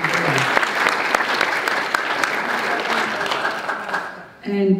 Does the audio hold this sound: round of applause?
yes